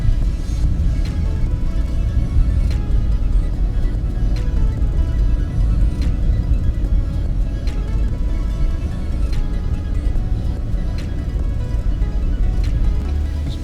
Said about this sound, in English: It's going to take her around a few curves and just kind of get a feel for the vehicle itself.